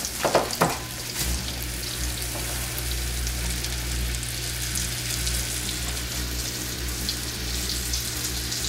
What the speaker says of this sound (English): Shake off any excess. I just drop in the skillet there.